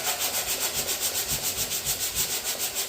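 Hand sanding with a sanding block on the body of a 1999 Chevy C2500 truck, a close, rhythmic scrubbing of quick, even back-and-forth strokes, about five per second, with no one talking over it.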